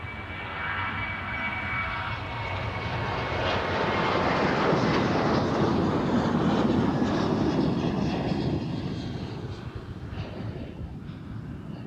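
Jet airliners taking off at Amsterdam Schiphol Airport, a steady, broad engine roar that swells to a peak mid-way and slowly fades as the aircraft climbs away, with no talk.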